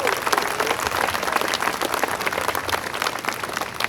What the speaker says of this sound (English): a round of applause for all of our volunteers